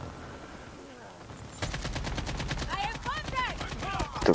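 Sustained full-auto AK-47 fire in Call of Duty Mobile starts abruptly after a quiet lead-in, a fast steady rattle of shots with a voice briefly heard over it.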